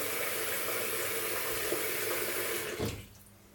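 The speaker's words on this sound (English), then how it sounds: "Just going to be adding a touch of water." Water runs from a tap during a wet shave with a Treet Dura Sharp blade, a steady broadband rush that cuts off near the end, leaving quiet room tone.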